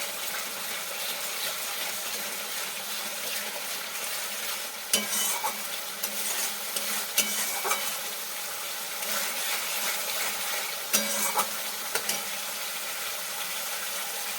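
Spices fry in a pan for rohu fish kalia, a steady close hiss and sizzle running throughout with occasional sharp utensil knocks and stirring scrapes.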